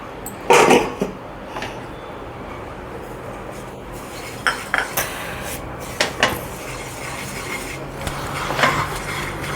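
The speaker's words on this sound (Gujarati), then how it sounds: "આ રીતે આપણે રવો શેકી લઈએ પહેલાં." Semolina (rava) roasting in a pan, stirred with a utensil that scrapes and clinks against the metal in short irregular strokes, close up with a quiet background and no talk.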